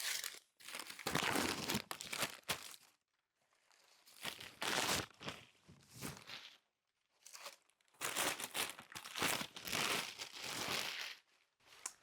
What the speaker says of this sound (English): the first thing we're going to be taking out is some packing paper, and we just want to make sure to open that up